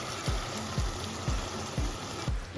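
Hot water is poured into mutton cooking in a handi-style pot, producing a steady hiss and sizzle with a soft low splash pulsing about every half second, close and alone.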